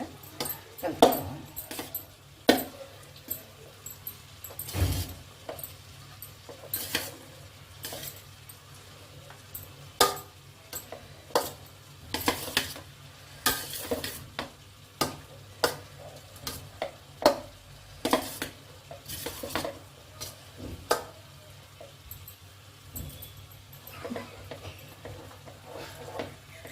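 Cooked rice is stirred and mashed with tamarind pulusu in a pot, giving repeated scraping, squelching strokes and sharp clacks of a spoon against the pot at an uneven pace, fairly close, with no talk.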